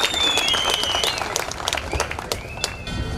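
An audience at a farmers' festival applauds warmly as a guest is called to the stage, with dense clapping that stays fairly loud and gradually thins, plus a few whistles over the crowd.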